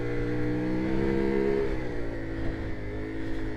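A CFMOTO Ibex 450 motorcycle engine revs hard and steadily, a loud continuous droning whine with rising and falling pitch, heard close up while riding with no talk.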